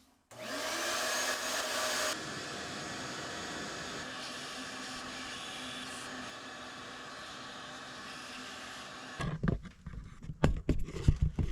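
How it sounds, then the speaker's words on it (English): A vacuum cleaner runs steadily during the cleaning of Volkswagen Jetta TDI intake and EGR parts, starting with a loud whoosh. A sustained close whine drones for several seconds before it cuts off, followed by clattering handling noises. "So I think I'm good to start vacuuming."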